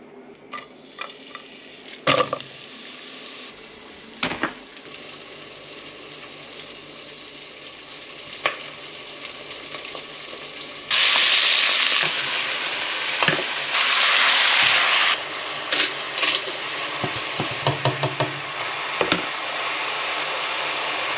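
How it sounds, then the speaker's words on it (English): Chicken fries in a pan for a chicken curry, a steady close sizzle with louder hissing surges when pieces are stirred or turned, plus occasional knocks of a utensil against the pan. "I'm cooking the chicken. That is going to be a chicken curry"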